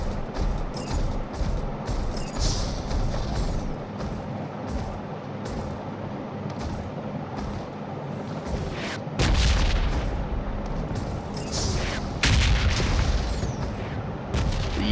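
Gunfire in PUBG Mobile, a solo-versus-squad match in a Conqueror lobby, rings out as repeated loud booming shots and bursts over a constant rumbling background, with heavier blasts clustered later.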